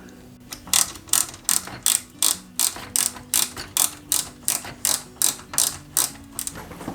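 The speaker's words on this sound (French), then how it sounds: "on y met deux vis OM à l'arrière" Screws are driven into an Ecto-1 model car kit, producing a steady run of about fourteen crisp ratcheting clicks at an even pace, close up and alone.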